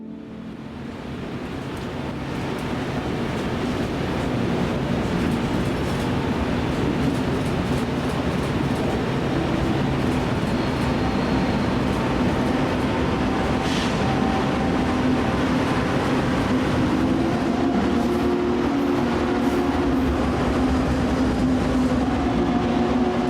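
A freight train led by an H1 locomotive rolls steadily past in Kansas City, a loud continuous rumble of wheels and wagons building in the first seconds and then holding, with faint clatter and no voices.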